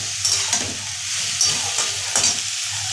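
Onions browning in a pan for black pepper chicken sizzle steadily while a utensil stirs them in several distinct scraping strokes, close and clear.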